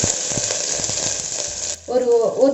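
Mustard seeds, cumin and grated ginger sizzling in hot oil in a pressure cooker, a loud, steady close crackle that cuts off abruptly, followed by a voice talking.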